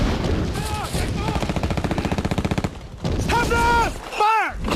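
Gunfire in a Battle of the Bulge reenactment, a rapid run of evenly spaced loud shots over about two seconds, then a few heavier blasts, with shouted voices and other sounds mixed in.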